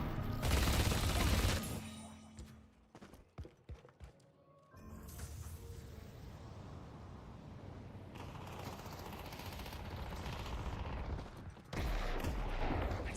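Gunfire rattles in the game Deadlock, bursts of rapid shots and sharp cracks, then a quieter stretch with scattered impacts before heavier firing returns.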